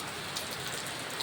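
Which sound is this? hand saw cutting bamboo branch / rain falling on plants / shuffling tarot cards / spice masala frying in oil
rain falling on plants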